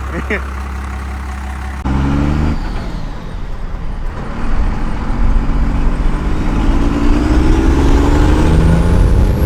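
A 2nd Gen Cummins diesel truck engine drones up close as the driver shifts gears, its tone dropping at the change and then climbing steadily as the truck accelerates, with people talking inside the cab.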